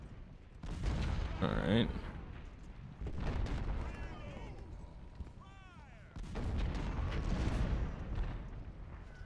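Artillery and musket fire in the Ultimate General: Civil War game, with heavy booming blasts and crackling volleys in loud bursts separated by brief lulls, and someone speaking briefly over the battle noise.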